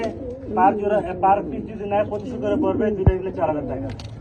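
White Gianadino pigeons coo at a farm pen in Mirpur, Dhaka, a low steady burbling that runs beneath someone talking close by throughout.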